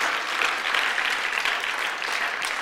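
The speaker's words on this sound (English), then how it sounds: "Come on, let's clap for Jesus." A church congregation claps in praise, a dense, steady wash of many hands filling the room without pause for the whole stretch.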